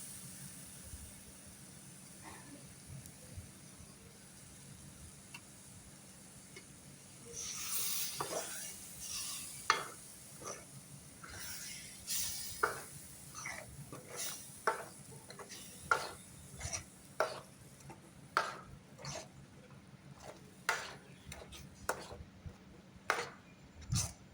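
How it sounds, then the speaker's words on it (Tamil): Tomato paste being stirred and sautéed in a pan: a quiet bubbling sizzle, then a run of repeated sharp scrapes and taps of a spoon against the pan, growing busier toward the end. "தக்காளி நல்லா வதங்கி வர அளவுக்கு கிண்டி விடுங்க"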